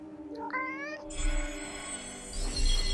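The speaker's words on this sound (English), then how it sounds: "Pet the kitty." A cat in the video game Forspoken meows loudly and close, making a drawn-out rising call, then a longer wavering meow, with game ambience rumbling underneath.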